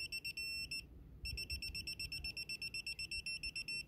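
A digital torque wrench beeps rapidly and repeatedly as it reaches 18 foot-pounds on an LS engine bolt, the close, shrill electronic pulses pausing briefly before resuming.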